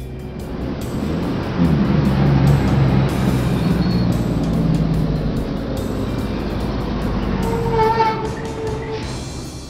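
A heavy dump truck's engine rumbles steadily and loudly for several seconds, a low droning roar with some higher whine toward the end.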